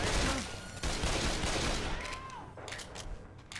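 Rapid gunfire in Left 4 Dead 2 comes as a quick fusillade of overlapping shots, fairly faint in the mix, with a few separate bursts spread across a few seconds.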